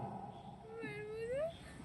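A stage comedian's voice imitates a tomcat's drawn-out meow, a rising and falling yowl in the middle of the clip, performed live at a cotton mill recreation club's anniversary celebration with faint room noise around it.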